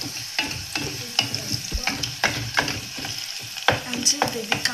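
Onions frying in a pan are stirred briskly, repeated scrapes and clacks of the utensil landing in an uneven rhythm over a continuous nearby sizzle.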